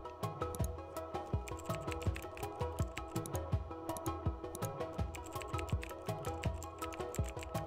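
Rapid, steady clicking of a computer keyboard as a clinical history is typed, the close keystrokes coming in quick bursts with no talking.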